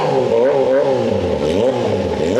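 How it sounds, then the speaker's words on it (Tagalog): A Kawasaki ZH2 motorcycle revs in launch control mode, its engine held near a limiter with a loud, close, warbling roar that rises and dips in quick pulses throughout. "Binuhay mo pa yung Kawasaki Launch Control Mode."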